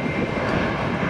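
A British Airways heavy jet airliner sits on the runway before takeoff, its engines producing a steady, broadband roar that holds at an even loudness throughout, with no voices present.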